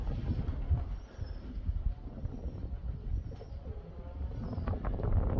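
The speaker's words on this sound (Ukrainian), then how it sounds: "Вон там голубы" Pigeons cooing somewhere off in the open, faint, low calls nearly buried under a rumbling, windy outdoor background.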